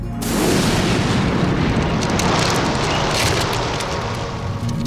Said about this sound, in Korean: 한라산 화산 폭발